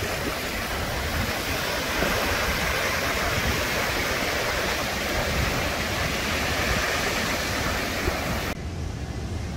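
Ocean surf washes onto the beach at South Padre Island in a continuous broad roar of breaking waves, close and steady, cutting off abruptly near the end.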